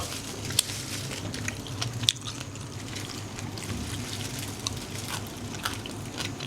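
Crispy food from a Lao morning market in Vang Vieng is bitten and chewed close up, with sharp crunchy bites at intervals over soft, moist chewing and faint background ambience.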